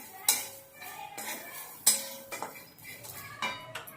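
Ginger, sesame seeds and spices roasting in a pan, with a spoon clinking and scraping against the metal in uneven strokes, including two sharp knocks, fairly close and moderate in level.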